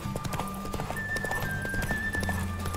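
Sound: horse galloping hooves in The Witcher 3 race, video game

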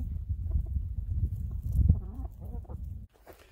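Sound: chickens in a pen

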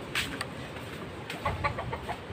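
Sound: chickens clucking

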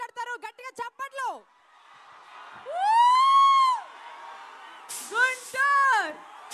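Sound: crowd applauding and cheering at event

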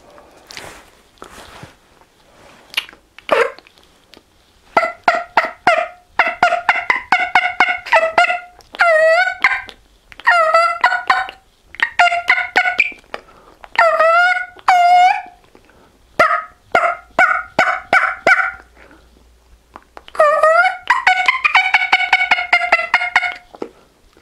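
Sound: turkey mouth call Old Raspy imitating turkey

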